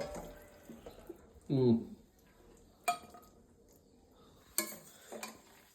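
Maggi noodles served onto plates with utensils in a home kitchen: a few clinks and scrapes of metal against dishes, with a sharp clatter near the middle, fairly quiet and sparse between sounds.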